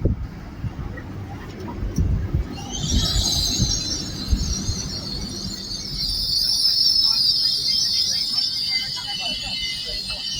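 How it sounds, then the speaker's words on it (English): A delayed LNER service to London King's Cross at Peterborough station rumbles along the platform with a sustained high wheel squeal, loud and close, while a station announcement plays over it. "It's the last train for the morning."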